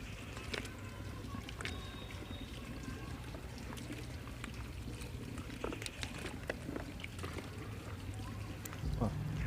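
Cow dung being mixed into water, thickened for pot compost at home, with faint sloshing, pouring and stirring sounds close by under steady background noise.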